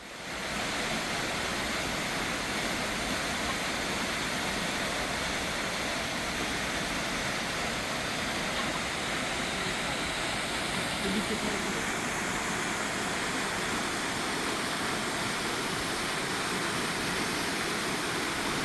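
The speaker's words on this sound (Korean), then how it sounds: "비가 와야 만날 수 있는 쌍폭포입니다." Twin waterfalls swollen after rain, a steady, dense roar of falling water that stays loud and unbroken throughout.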